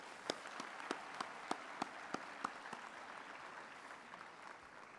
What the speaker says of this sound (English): So I think we can give them another hand of applause.